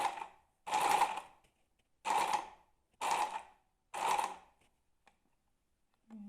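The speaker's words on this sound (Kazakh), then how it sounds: "Бүккен сызықтың үстімен тігіп шығамыз." Sewing machine stitching along the folded edge of a tablecloth in five short, evenly spaced bursts of rapid whirring and clatter separated by pauses, close and clear with no talk.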